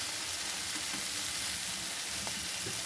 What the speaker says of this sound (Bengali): এখন একটু কাঁচা তেল ছড়িয়ে দেবো উপর দিয়ে